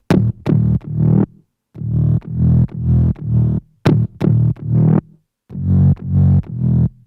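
Main Serum synth bass from a remake of a song, heard alone as a series of short punchy plucked notes in a bouncy rhythm with sharp bright attacks and gaps between phrases.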